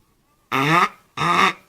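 Two short, buzzy quacks played up close on a harmonica in imitation of a duck, loud and separated by a brief pause.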